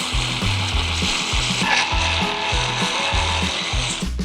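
Wood is sawn by hand while a Christmas sleigh is built, a loud, close rhythmic rasp of repeated back-and-forth strokes with a short pause midway.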